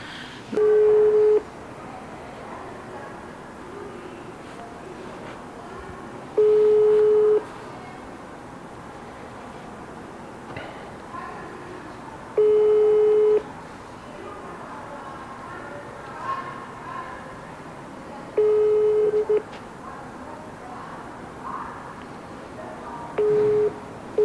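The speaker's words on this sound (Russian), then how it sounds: "Позвоним заместителю председателя городской комиссии и спросим у нее" A telephone busy signal pulses in evenly spaced short tones, about five bursts spaced several seconds apart, moderately loud over a faint background hiss.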